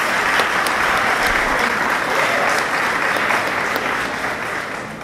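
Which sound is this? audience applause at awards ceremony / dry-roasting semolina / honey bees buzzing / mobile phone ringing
audience applause at awards ceremony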